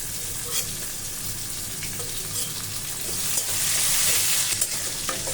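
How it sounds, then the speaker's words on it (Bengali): Chopped garlic and onion frying in oil while being browned, a dense close sizzle and crackle that swells louder toward the end, with faint stirring underneath. "এখন পেঁয়াজ রসুনটাকে একটু বাদামি করে ভেজে নেব, লালচে ভাব হবে।"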